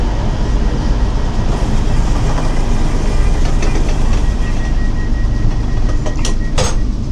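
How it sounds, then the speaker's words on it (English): The Aberdeen to Penzance passenger train pulling out of the station on its final run, a steady rumble of rolling wheels and carriages with faint clicks and a brief high squeal near the end. "the Aberdeen to Penzance train pulls out for the very last time today"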